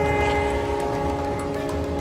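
The Maharajas Express luxury train in India, a loud steady rumble with a sustained tonal drone like a horn or whistle carrying throughout, no talking.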